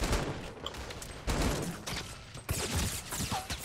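Rapid bursts of video game gunfire, repeated volleys of shots in quick succession with near and slightly muffled blasts over steady game background noise.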